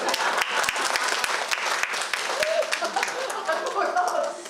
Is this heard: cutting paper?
no